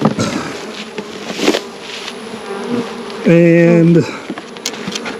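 Honey bees buzzing close around an open hive during an inspection down to the bottom boxes, a steady swarm hum with a short louder single-bee drone passing near, and a brief spoken word.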